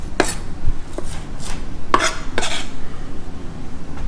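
A kitchen knife chops celery into small dice on a cutting board, a handful of sharp close knocks at an uneven pace over a low background hum, with no talking.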